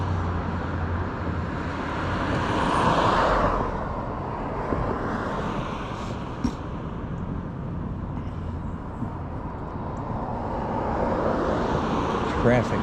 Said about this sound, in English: Traffic on this road is bad.